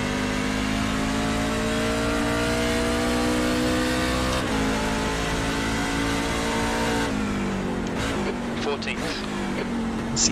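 A NASCAR Cup car in the iRacing simulation at Watkins Glen International drones with a steady, high engine tone, easing off and then revving again near the end.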